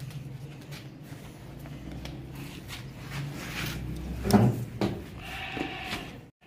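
A goat for sacrifice at a livestock market bleats loudly once, close by, amid ambient crowd murmur, then a fainter second call follows shortly after.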